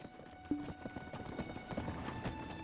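A horse's hooves clip-clop steadily in the video game Black Desert, a quick even rhythm of hoofbeats at moderate distance with faint background game ambience and a brief whinny-like tone.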